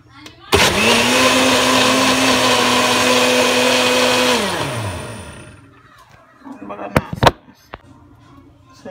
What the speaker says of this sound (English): I poured all the Sobolo into the blender.